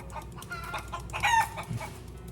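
Chickens clucking in a short burst, a few close squawks and clucks rising in the middle over a low background hum.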